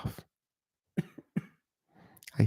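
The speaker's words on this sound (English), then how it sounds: "I'm trying not to cough." A person coughs close by during an indoor tarot reading, with four short, harsh bursts separated by pauses and a rougher cough at the end.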